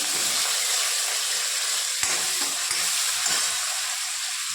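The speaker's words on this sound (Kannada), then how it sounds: "ಈಗ ಎಣ್ಣೆ ಬಿಸಿ ಆಗೈತೆ ನೋಡಿರಿ ಸ್ವಲ್ಪ ಸಾಸಿವೆ ಹಾಕಿದ್ದೀನಿ ಒಂದು ಸ್ವಲ್ಪ ಜೀರಿಗೆ ಮತ್ತು ಸ್ವಲ್ಪ ಕರಿಬೇವು" Mustard seeds, cumin, curry leaves, chillies and onion sizzle in hot oil, a steady close, loud frying hiss with a few faint crackles and pops.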